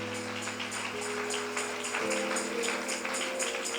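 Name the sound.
church congregation applauding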